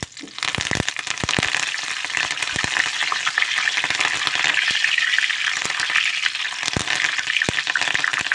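Five or six dried red chillies and curry leaves fry in hot oil in a pan, a dense close sizzle with sharp crackles and pops scattered throughout.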